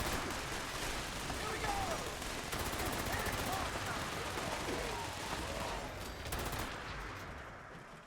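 Gunfire from the video game Fallout 76 rattles through a dense, continuous barrage with rapid bursts and booming shots, holding steady and loud for most of the stretch before tailing off slightly at the end.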